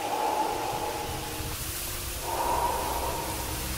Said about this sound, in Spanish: Antes de combatir contra Artorias podemos escuchar su respiración desde el otro lado de la niebla